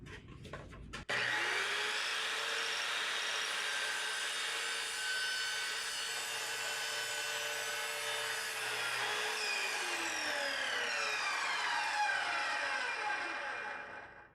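An Evolution R210CMS metal-cutting miter saw spins up with a sharp start, then bites through a length of PVC in one steady, loud whining cut lasting about ten seconds before the blade winds down.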